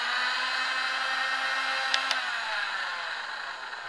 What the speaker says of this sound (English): It sounds like a hairdryer, but in the middle of a battle, who cares?